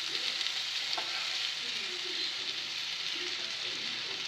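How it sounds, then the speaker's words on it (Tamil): Pieces of elephant yam frying in cold-pressed gingelly oil, a steady, even sizzle close by that runs unbroken throughout. "நல்லா சுருளை வதக்கி எடுக்கணும்"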